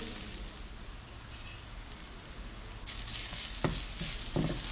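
Finely chopped garlic sizzles with browned onions in a pan for a ridge gourd curry; a steady, close frying hiss swells louder in the second half, with a few soft stirring scrapes near the end.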